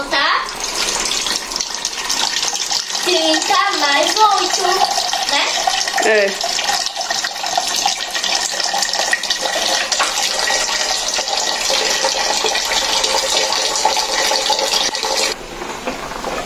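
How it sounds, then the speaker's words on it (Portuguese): Cold tap water gushes steadily into a pot of cassava in a home kitchen, a continuous splashing flow heard close up while someone speaks briefly over it. "Vou tá colocando água fria nela agora."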